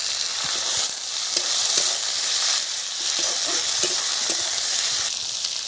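Chopped tomato hits frying onions in a pan for a fish curry, giving a loud, steady sizzle and hiss with occasional stirring knocks, and no voices.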